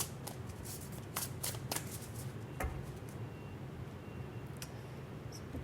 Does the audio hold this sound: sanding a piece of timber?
no